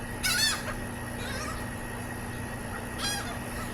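Outdoors, a bird gives two short harsh calls, one near the start and another about three seconds later, fairly faint over a quiet background.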